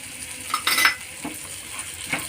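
A spoon stirs jaggery into raw mango methamba in a pan, giving a few short scraping and clinking strokes against the metal with a soft sizzle, close by and with no talking.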